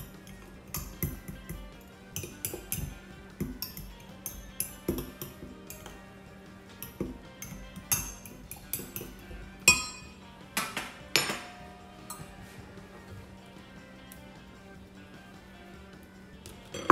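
Baking powder being stirred with a utensil for keto rum cake batter, giving irregular close clinks and taps against a bowl and dishes over a quiet kitchen background, with no talking.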